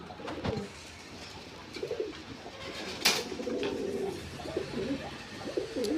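Red Lahori pigeons coo in low, throaty bursts, several overlapping calls repeating through the clip against a steady background hum, with one sharp click midway.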